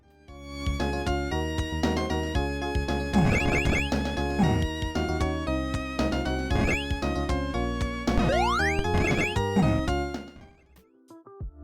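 Chiptune-style music plays from a bootleg Donkey Kong Country game, with a bright, steady synthesized melody over bass notes and quick rising runs. It cuts off abruptly near the end.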